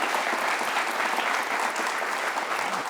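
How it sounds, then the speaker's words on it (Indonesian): Steady, dense applause from a live seminar audience fills the whole stretch, loud and even, without pauses or distinct individual claps. "ini tepuk tangan yang tidak diminta, indah sekali"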